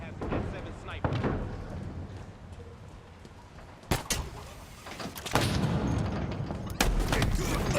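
Sniper rifle fire in a video game, a few sharp, loud cracks scattered over the stretch above a constant bed of game noise and effects.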